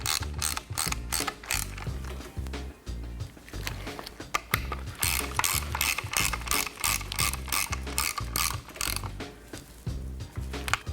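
A torque wrench ratchets in quick, even runs of close, crisp clicks as it tightens the legs of an XFUSION Metric or Vengeance travel-adjust unit to 60 inch-pounds, with short pauses between the bursts.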